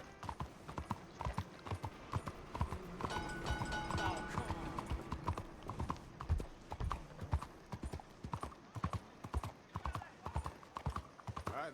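A horse's hooves clip-clop in a steady walking rhythm in Red Dead Redemption 2, close by, with a brief burst of other game sounds partway through and background talk.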